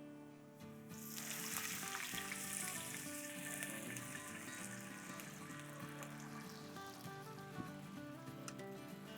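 Steady sizzling and bubbling of broth reducing in a hot pan for a ginger-lime glaze on young corn, continuous and close, with no talking.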